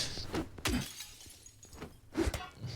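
Car window glass shatters in the video game Silent Hill 2, several sharp breaking crashes spaced across the moment, fairly faint and close.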